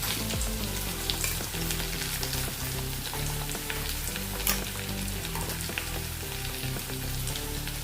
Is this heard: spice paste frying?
yes